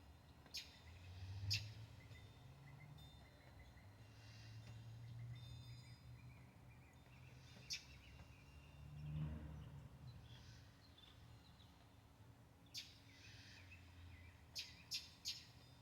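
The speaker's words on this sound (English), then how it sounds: "Hear the birds. I love birds." Faint, scattered bird chirps ring out over a quiet low hum, short tweets at irregular intervals in the distance.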